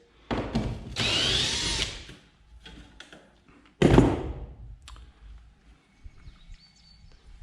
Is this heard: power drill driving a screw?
yes